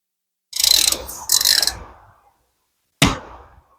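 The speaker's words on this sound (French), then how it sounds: "Hop, je vais tout simplement venir le serrer sur la vis." A nut is run onto a bolt on a seized car brake caliper, giving two scraping, ratcheting bursts followed by a sharp metallic clack. The sounds are close and loud against silence.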